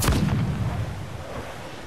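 Ship cannons booming in Assassin's Creed IV Black Flag, a heavy blast at the start followed by a long rumbling decay, loud and without speech.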